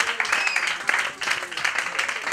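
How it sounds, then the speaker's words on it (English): A church congregation claps together during a sermon, a dense, continuous patter of many hands at steady volume with no pauses. "clap for Jesus"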